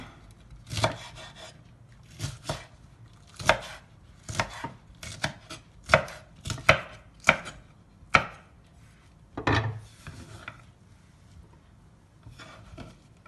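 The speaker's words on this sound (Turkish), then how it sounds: "Biberlerimi sonunu da doğruyorum" A knife chops peppers on a cutting board, pickle preparation with tomato sauce, in irregular bursts of sharp taps and short flurries separated by pauses, close and crisp in a quiet kitchen.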